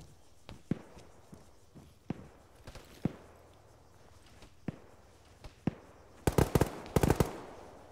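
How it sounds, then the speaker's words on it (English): Gunfire in ArmA 3 on Stratis during close-quarters training: scattered single shots crack out at irregular intervals, then tight rapid bursts close in near the end, loud against a quiet background. "We're receiving heavy fire."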